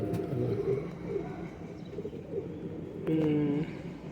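Old pigeons coo in a loft in low, soft, repeated murmurs, with a louder coo near the end and a general background hum of birds.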